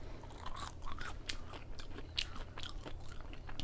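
Crunchy waffle fries being chewed up close, with repeated crisp bites and crunches in an irregular rhythm, fairly quiet with no talking.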